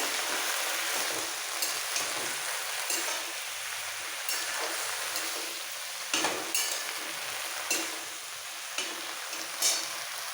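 Potatoes and eggplant sizzle in oil in a pan, a steady crackling hiss with occasional louder bursts as the pieces are stirred, and no talking.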